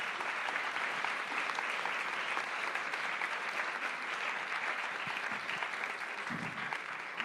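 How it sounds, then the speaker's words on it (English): Conference audience applauding after a panel session, a dense steady wash of clapping that carries on evenly for several seconds at moderate distance, without any voices over it. "So please, big round of applause."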